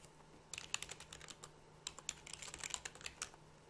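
A test password is typed on a computer keyboard, quiet close clicks in two quick bursts separated by a brief pause.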